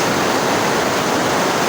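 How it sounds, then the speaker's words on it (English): Rain falls hard in a loud, steady hiss, close by and uninterrupted. "Lots of rain, my viewers."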